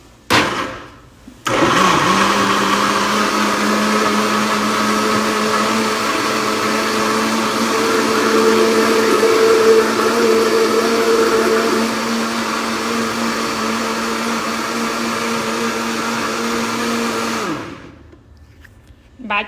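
A blender whirs loudly, pureeing seasonings with no coconut milk added. It starts abruptly, holds a steady high motor whine for about sixteen seconds with a slight dip partway through, then winds down and stops.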